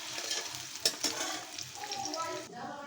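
Pumpkin seeds frying in a pan give a steady, close hiss, broken by a couple of sharp utensil clacks as they are stirred; the sizzle drops away near the end.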